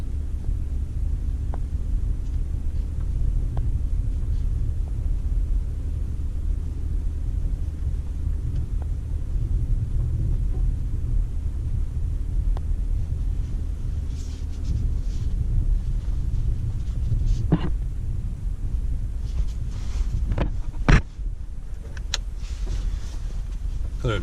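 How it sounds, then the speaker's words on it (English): A 2018 Ford F150 4x4 with the 3.5 EcoBoost rolls slowly across a field, heard from inside as a steady low rumble with a few soft knocks and bumps and no talking. "driving it just down through the field here"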